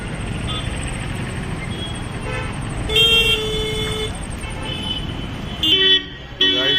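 Busy street traffic in Kota, India, rumbles continuously while car horns toot in short bursts, with a louder honk around the middle and another near the end, and faint voices in the mix.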